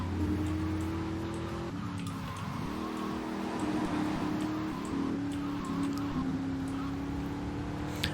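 Engine of a Banshee sports car racing in Grand Theft Auto 3, a steady droning hum that shifts pitch with gear changes and throttle, continuous and moderately loud with no talk.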